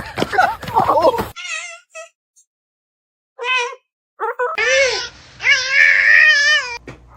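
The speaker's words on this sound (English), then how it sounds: "Look at this little kitten." High, thin kitten meows come in short bursts, one call at first, then a longer run of several close, loud mews. They are mixed with brief talk and excited voices at the start.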